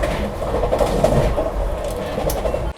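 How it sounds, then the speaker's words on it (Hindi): A Vande Bharat Express train travels at about 130 km/h on an inaugural run from Khajuraho to Delhi, heard from inside as a loud, steady rumble and rail hum with faint wheel clatter and no talk. "ऑलमोस्ट 130 kmph मेंटेन की हुई है अपनी वंदे भारत एक्सप्रेस"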